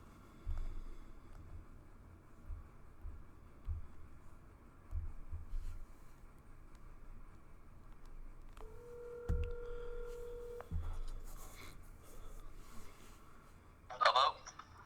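A telephone line rings twice while a call to a guest is being dialed, the ring tones fairly clear over a faint room background before the call connects.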